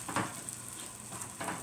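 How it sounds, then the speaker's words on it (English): Potatoes and tomatoes simmer in oil in a covered pan, giving a faint, steady sizzle with a couple of soft stirring or lid bumps, close and quiet. "So I'm just going to let that simmer."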